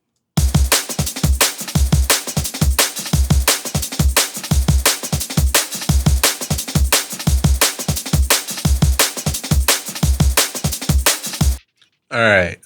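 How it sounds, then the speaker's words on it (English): A dry, unprocessed drum and bass drum loop plays alone, punchy kicks and crisp hits in a steady rhythmic pattern, stopping shortly before a brief voice at the end. "if I play just the loop without any processing on it"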